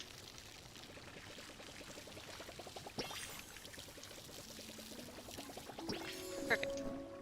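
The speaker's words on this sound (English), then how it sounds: "And then we water everything." Crops being watered in the video game Palia, a soft pouring splash that runs steadily for several seconds with small repeated clicking steps beneath and a brighter chime near the end.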